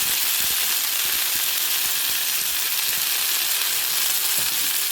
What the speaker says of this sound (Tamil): ஒரு தக்காளி பழம் போடுறேன்